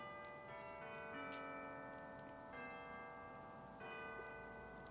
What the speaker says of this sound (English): The soft sounds of the distant bells